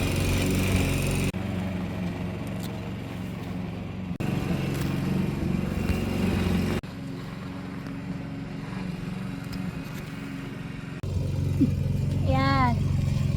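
A neighbour's lawn mower drones steadily at a distance behind a garden, its engine hum continuous and moderately faint, with brief bird chirps near the end.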